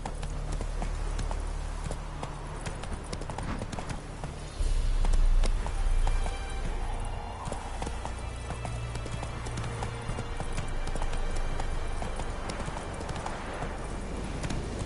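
The horse Roach trots on in a video game, with steady rhythmic clip-clop of hooves close by that runs for the whole stretch, and a short snort or whinny midway.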